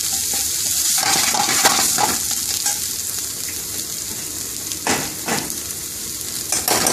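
Fried rice ingredients being stirred with mixed curry powder in a hot pan in an Indian restaurant kitchen, steady sizzling with repeated scraping strokes of the utensil throughout.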